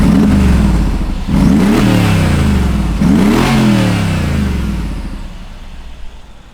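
Tuned 5.5-liter twin-turbo V8 in a Mercedes-Benz G63 AMG with side exhaust pipes, revved hard twice in quick succession, each deep roar rising and falling before settling toward idle, loud and close.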